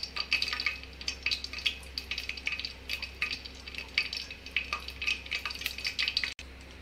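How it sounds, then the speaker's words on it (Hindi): Mustard seeds and cumin splutter and crackle in hot oil in a pan, a dense run of quick close pops and sizzles over a low steady hiss, with no talk. "जैसे हमारी राई और जीरा फूटने लगेगी हम इसमें से आवाज आएगी"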